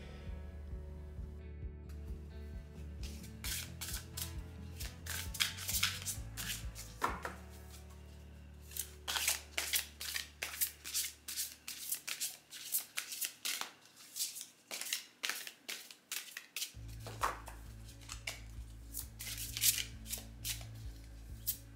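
Tarot cards being shuffled by hand for a multi-card reading, quick bursts of crisp riffling and slapping in close, repeated irregular rounds with brief pauses between them.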